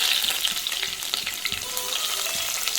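Mustard seeds and fenugreek sizzle and crackle steadily in hot oil, with faint stirring scrapes, for a green apple pickle. The hiss is loud and close with no voices.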